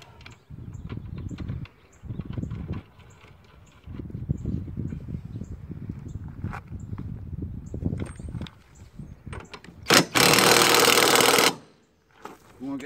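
An impact wrench on a Honda Civic wheel nut, during rear wheel bearing work on a 2001-2005 model, fires one loud, sustained rattling burst for about a second and a half, close by, after quieter shop noise and talk.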